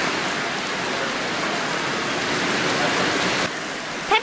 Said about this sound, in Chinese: 瞬间大雨下不停